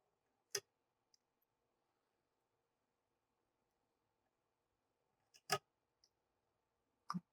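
A few sharp, isolated snips of scissors cutting thread during custom fishing rod decorative wrap work, three main crisp cuts with faint ticks between, close and otherwise quiet.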